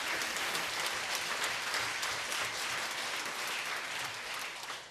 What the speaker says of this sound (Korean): 우리 힘차게 박수로 하나님께 감사드리겠습니다.